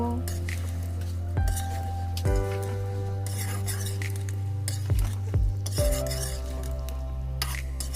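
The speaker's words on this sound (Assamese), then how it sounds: "এতিয়া ভালকৈ আপুনি লৰাই ল'ব।" Mutton with spices is stirred in a metal pot, the spoon scraping and clinking against the sides in several distinct strokes over a low, steady sizzle, close and fairly quiet.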